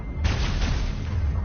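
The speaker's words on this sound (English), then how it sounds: "Oh, gunfire." Gunfire during a Mass Effect battle at Port Hanshan, a dense, rumbling stretch of shots and low booms that runs steadily throughout without any talking.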